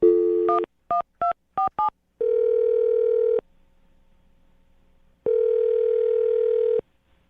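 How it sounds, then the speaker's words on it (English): Phone dialing for a radio show call: a quick burst of touch-tone dial beeps, then two long ringback tones separated by a quiet gap, clean and close with no talk. "I'm going to dial her phone number right now"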